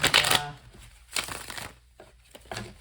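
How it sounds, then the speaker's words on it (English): Tarot cards being shuffled by hand in close, papery bursts. A loud riffle opens, then further shorter shuffles and crisp card slaps follow with brief pauses between them. "I am shuffling the cards because I want you to know that I do shuffle the cards"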